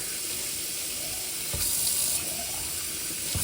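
Water runs steadily from an indoor tap to refill a plant sprayer, an even hiss and splash with a couple of soft knocks as the container shifts, and no talking.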